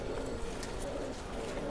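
A pigeon at a pigeon farm gives soft, low coos over steady background noise, with faint speech nearby during the short stretch.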